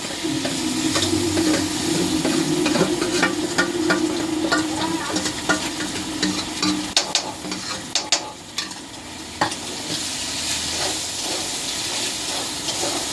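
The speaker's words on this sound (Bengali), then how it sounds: "কড়াইয়ের এই মাছ বাটাটা আমি পুরোটা ছেড়ে দেবো।" Mashed dried fish paste hits hot oil in a wok with a loud steady sizzle, then spatula scrapes and stirring knocks sound up close as the frying hiss continues without speech.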